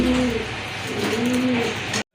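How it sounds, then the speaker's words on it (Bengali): A pair of milk-white Lakkha pigeons at a pigeon sale coo in low, rolling phrases close by, repeating several times before the sound cuts off abruptly. "কবুতর দেখেন খুবই সুন্দর"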